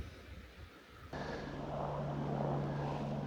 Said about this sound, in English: there's that helicopter with that radar thing on it.